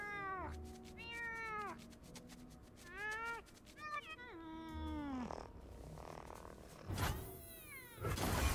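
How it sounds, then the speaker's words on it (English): A cat meows over and over in varied, rising and falling calls during a card-game session, with a background of music and chatter and a brief thump near the end. "Look how happy the cat was."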